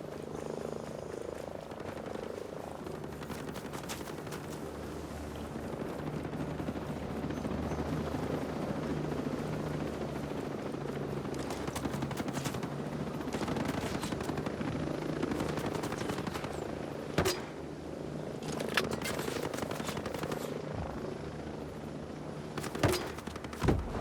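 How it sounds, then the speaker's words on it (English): Continuous throbbing rotor rumble of a helicopter lifting off in the video game Ghost Recon Breakpoint, steady and fairly distant, with scattered sharp gunfire cracks and croaking frog-like chirps layered over the drone. "Chopper took off."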